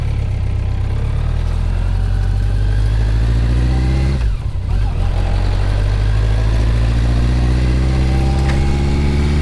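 A sidecar motorcycle combination's engine revs loudly and steadily up close on a circuit, pitch rising and falling through the gears with a brief dip midway.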